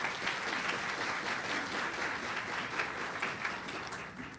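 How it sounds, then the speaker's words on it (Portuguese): Steady, even applause from an audience at a public launch event, a continuous wash of many hands clapping at moderate loudness for the whole clip, with no voices on top. "Uma salva de palmas, por favor."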